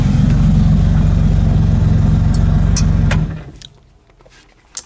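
1JZ VVTI engine in a 240sx drift car, a loud steady throbbing run for about three seconds before it cuts off, followed by faint clicks and near quiet.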